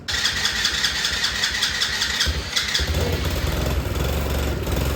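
A quad ATV saved from the scrap yard, with a shorting tail light fixed, cranks and fires up, then keeps running with a loud, steady engine roar close by throughout.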